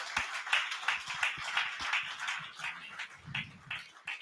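A congregation at a prophetic conference claps hands, a quiet, somewhat sparse run of distinct claps with a loose, uneven rhythm, heard at a modest distance.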